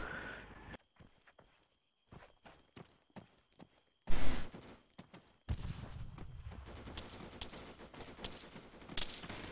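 ArmA gunfire crackles during a military firefight, scattered single shots at first, then a loud nearby burst and a denser stretch of rapid fire.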